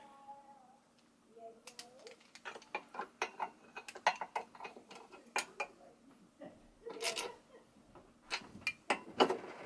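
A socket wrench ratchets while tightening a drill press in a workshop, giving scattered sharp metallic clicks and short bursts of ticking across the clip, with a few louder clanks near the end and brief speech early on.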